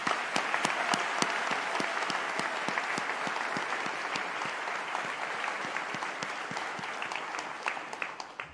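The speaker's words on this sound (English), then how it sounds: "A round of applause for Wesley Giffen, the orator for today." Sustained audience applause fills a graduation ceremony hall after a doctoral honoree and orator is introduced, steady and fairly loud with individual claps standing out, no voices over it.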